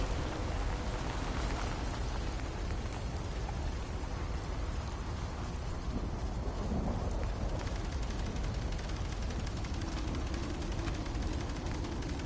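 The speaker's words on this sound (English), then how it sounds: "Rain is soaking right through me clothes." Steady rain falling in the video game Fallout 4, a dense continuous wash of drops on surfaces with faint rumbling underneath, holding at an even level throughout with no voices.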